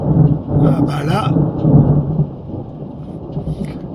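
Low thunder rumbles through a rural campsite in Romania's Maramureș, a broad rolling growl under a voice, then settling into a fainter murmur with light rain-like hiss.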